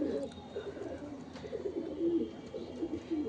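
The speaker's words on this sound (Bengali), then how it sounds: "প্রথমেই তোমাদের একজোড়া কালদমা পায়রা ছেড়ে দেখাই।" Kaldoma pigeons, a released pair, coo in soft low repeated calls, fairly faint and close, with light rustling in the background.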